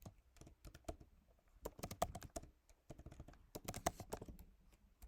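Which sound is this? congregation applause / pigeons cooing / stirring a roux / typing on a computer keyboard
typing on a computer keyboard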